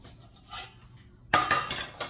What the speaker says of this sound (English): Let me get these cake pans.